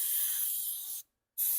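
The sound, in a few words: spraying Freeze Off penetrating oil onto a bearing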